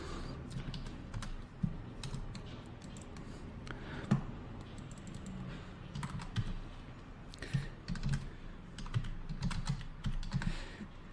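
Typing on a computer keyboard, a close, quiet run of irregular key clicks with short pauses, heard alone.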